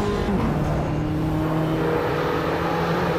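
A race car engine in the VR game Mini Mayhem at Oulton Park holds a steady, sustained drone with tonal whine, loud and continuous throughout with no speech.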